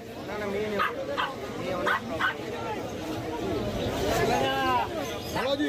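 Dogs at Kolkata's Galiff Street dog market bark, yip and whimper in short bursts at close range, mixed with people talking nearby.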